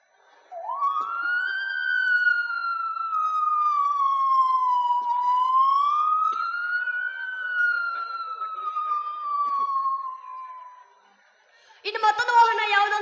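A voice imitates a fire engine siren, a long wavering wail rising and falling smoothly for about ten seconds, then breaking off into a burst of laughter.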